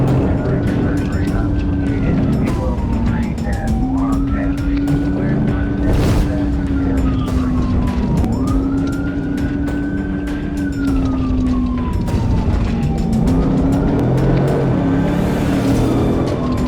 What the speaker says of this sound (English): Sirens echoed as the pursuit escalated.